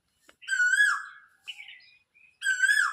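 A bird sings a sweet spring call, two clear whistled phrases of the repeated kuhu type separated by a brief softer note, close and distinct against silence.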